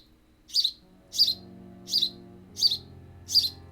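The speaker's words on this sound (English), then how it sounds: "it's a little sparrow, apparently" A sparrow in the video game Vampyr gives five short, bright chirps evenly spaced about once every 0.7 seconds over a quiet low hum.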